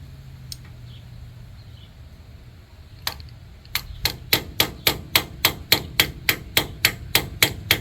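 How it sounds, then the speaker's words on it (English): Hammer blows during a front brake and wheel bearing job on a car, starting with a few scattered strikes, then a fast, steady run of sharp, loud metallic hits close by. "There's a hammer when you need one."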